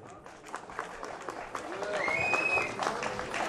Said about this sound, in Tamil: அவர்களுக்கு உங்கள் கரகோஷம்